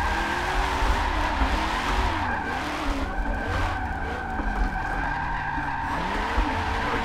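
A Camaro drifts in a racing video game at the Nordschleife, tires squealing in a long continuous skid over a steady engine drone, loud and sustained throughout.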